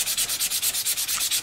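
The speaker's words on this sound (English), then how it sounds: "you really have no idea how much sanding goes into one of these things" A custom quilted mandolin is hand-sanded in steady back-and-forth strokes, about ten even rasping passes in a quick regular rhythm, close and alone.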